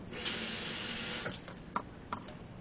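A tap gushes with a bright, steady hiss for about a second, then shuts off, leaving a couple of soft clicks.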